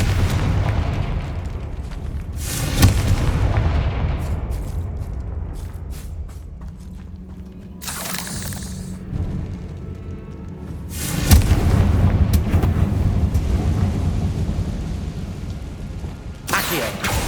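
Confringo fire spell blasts in Hogwarts Legacy, with several loud booming bursts and crackling impacts spread through the stretch over a low rumbling background.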